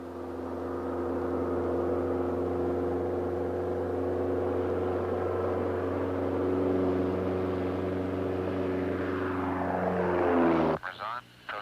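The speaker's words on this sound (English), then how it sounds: "Repeatedly, Patton noses the aircraft skyward till the small plane stalls. It then pitches over, and the spins begin." A small propeller plane drones with a steady, loud engine tone as it climbs into a stall and spins. Near the end the pitch slides down, then the sound cuts off abruptly.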